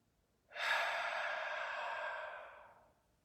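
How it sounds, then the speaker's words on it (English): A big, deep breath drawn in during a yoga cool-down, one long steady airy inhale lasting about two and a half seconds, close and fairly soft, with no talking. "One last time, a big inhale."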